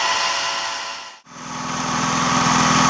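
Small homemade engine, the Grunt-O-Matic 9000, running steadily on a torrefaction gasifier setup, a loud buzzing drone that briefly cuts out and drops away near the middle before picking back up at full strength.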